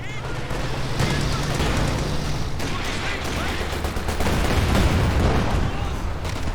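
An infantry support gun fires in Company of Heroes 2 amid dense, continuous gunfire and explosions from a busy battle, loud and chaotic throughout.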